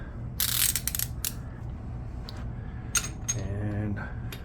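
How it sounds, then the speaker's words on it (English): A torque wrench ratchets and clicks while tightening an AR15 handguard adapter to 55 foot-pounds, giving a series of close, sharp metallic clicks and ratcheting bursts, with a louder click near the end. "then I hold my hand guard adapter with the crescent and torque on until it clicks"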